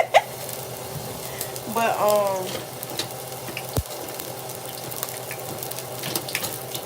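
Grease sizzling in an overheated pan, a steady hiss and crackle close by, with a voice briefly speaking over it and a sharp knock partway through.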